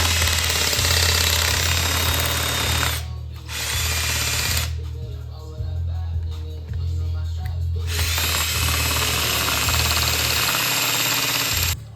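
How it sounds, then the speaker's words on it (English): A power drill bores into a metal motor sprocket to make it fit on a 76V Razor Demon build, loud grinding whine running in long stretches with a short pause and a quieter middle section. "the sprocket isn't fitting, so we're drilling it to fit."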